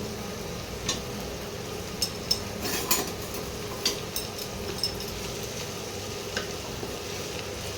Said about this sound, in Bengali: এই পেঁয়াজ কুচিটা ভেজে নেব।